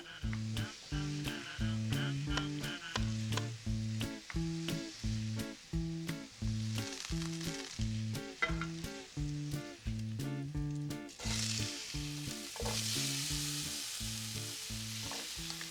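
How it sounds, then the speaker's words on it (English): Butter sizzles and fries in a hot pan, a continuous crackle under rhythmic, plucky background music, growing hissier near the end. "Let's get some butter melting"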